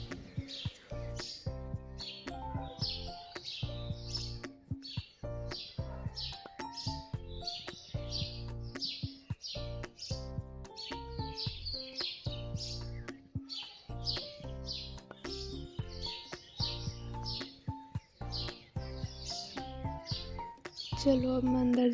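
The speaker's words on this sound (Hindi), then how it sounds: "6 बजे सुबह बाहर का नज़ारा और चिड़ियों की चहचहाट सुनो आप।" Birds chirping outside a village home at six in the morning, a busy, continuous run of quick bright tweets and calls over a low rhythmic background, moderately near and steady throughout.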